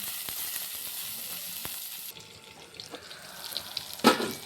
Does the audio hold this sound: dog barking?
no